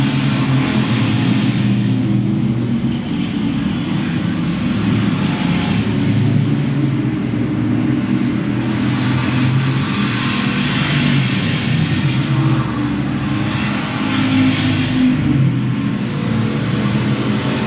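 Street stock race cars circle Louisville Motor Speedway, a steady loud engine drone holding throughout with slight rises and falls as the pack passes, no voices.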